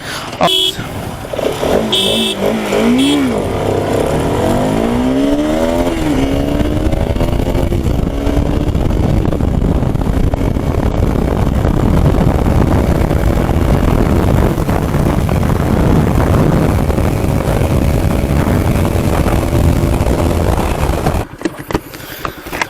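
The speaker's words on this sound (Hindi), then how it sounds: "तो अभी R15 V4 से हम लोग ड्रैग रेस करेंगे" A Bajaj RS 200 and a Yamaha R15 V4 motorcycle rev and accelerate hard side by side in a drag race, their loud engines rising in pitch through the gears and then cutting off near the end.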